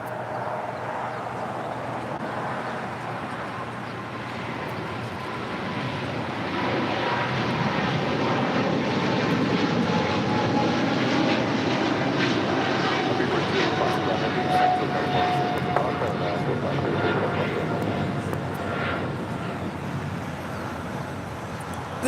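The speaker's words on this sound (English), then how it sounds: "This is British Airways Flight 280 taking off to London Heathrow on a 777-300ER." A British Airways Boeing 777-300ER jet takes off at LAX, a broad, steady roar of jet engines that swells and holds loud throughout, heard at a distance with wind noise.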